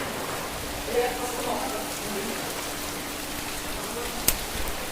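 Heavy rain pours steadily over a school courtyard during flooding, a dense, even hiss throughout with a faint voice and one sharp click near the end.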